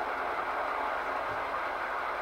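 Model train locomotive 5615 uncouples from its consist and pulls away. It gives a steady, even mechanical rumble with no distinct clicks, heard alone without talk.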